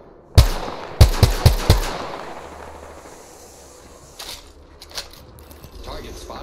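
Gunfire in the video game Apex Legends: one sharp shot, then a quick run of four loud reports, followed by a few fainter, more distant shots as the echoes fade.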